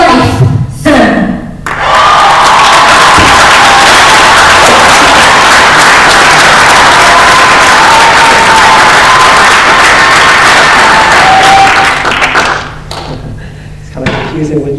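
An audience claps at the end of a talk at a Gaza eyewitness event, a loud, dense burst of applause from a crowd that fills the room for about ten seconds, then fades as speech resumes.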